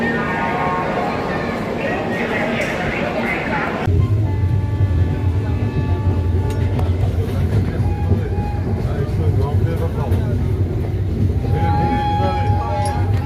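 Kulik Express passenger train running toward Rampurhat, a continuous rumbling roar with rattling carriage noise that shifts to a deeper rumble partway through, while a person talks over it.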